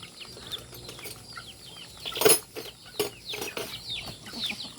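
Backyard chickens clucking and squawking after feeding, with scattered calls throughout and a sudden loud burst of wing flapping midway, set against faint farmyard background.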